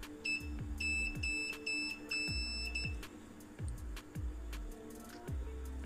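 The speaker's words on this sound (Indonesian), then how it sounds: "Untuk ngeceknya aku tetap menggunakan mode buzzer ya." Continuity buzzer of a multimeter probing a Samsung Galaxy S10 Plus board with a shorted component, giving repeated short high beeps in uneven bursts, fairly loud and close, over low tonal hum and no talking.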